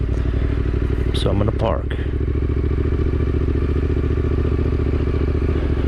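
A motorcycle idles close by as its rider parks at a car show, a low, steady engine throb running throughout, with a brief scrape and a short spoken remark early on.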